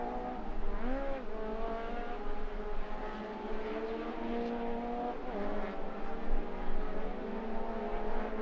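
A race car drifts through a long slide during an ICCR 2024 circuit race, its engine note wavering and rising and falling steadily over several seconds, loud and close, with no talk.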